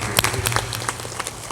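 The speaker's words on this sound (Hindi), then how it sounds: "ताली बजा दो जोरदार" Loud applause from a crowd at a live village satsang gathering in Singrauli, dense steady clapping filling the whole stretch with a few sharper peaks.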